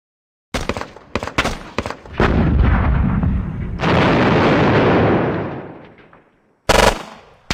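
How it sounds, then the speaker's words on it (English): Howitzer and gunfire in the war game Squad Battles: Eagles Strike: a run of sharp loud shots, then long roaring blasts that swell and slowly decay, and a final hard crack near the end, all close and with no talk. "That is the howitzer that is shooting me."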